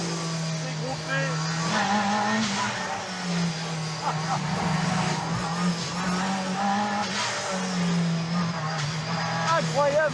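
An Italian Group B rally car on badly worn, finished tires, its engine droning loudly with shifting revs and tire squeal across the whole stretch.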